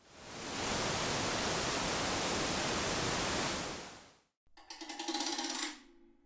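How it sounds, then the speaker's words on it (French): Steady broadband white noise hisses loudly for about four seconds, cuts out, then returns as a shorter, textured burst after being convolved with a binaural recording of rubbing on a plastic object. "ce même bruit blanc convolué avec un son binaural de frottement sur un objet en plastique"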